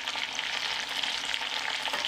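Onion and garlic fry with seared meat in a cooking pot, giving a steady, close, dense sizzle that runs unbroken without any voices.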